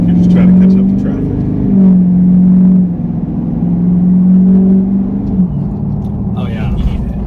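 A 6.7 Powerstroke diesel pickup fitted with a KC whistler turbo whistle accelerates at half throttle. Inside the cab a rising whine and engine drone repeat in surges, with people talking over it.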